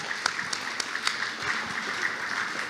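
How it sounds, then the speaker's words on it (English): Audience applause at an opioid presentation event carries on steadily as a soft wash of many hands, with a few sharper individual claps standing out. "Let's give everybody a round of applause."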